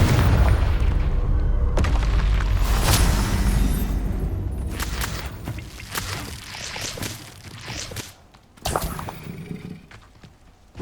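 A Confringo explosive spell in the video game Hogwarts Legacy goes off with a heavy, loud boom and rumbling debris. The crashes fade over several seconds, followed by a late sharp burst.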